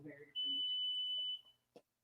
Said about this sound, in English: She's going to go turn off the alarm beeping.